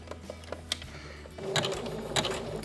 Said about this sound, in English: at this point you want to sew nice and slowly